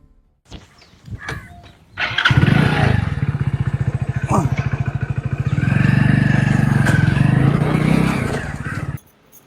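A motorcycle starts after a few clanks, then its engine idles and revs with a steady throbbing putter for about seven seconds before cutting off, loud and close, while people talk nearby.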